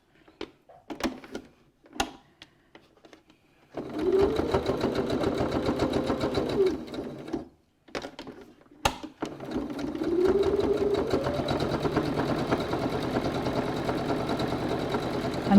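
A sewing machine top stitching the edges of a fabric cylindrical case runs in two steady, close bursts, the first about four seconds and the second longer, with brief handling clicks and a pause between them.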